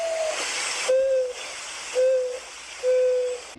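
A prairie dove at a provincial campground in southern Alberta gives three steady low hooting calls, evenly spaced and fairly close, over a soft background hiss.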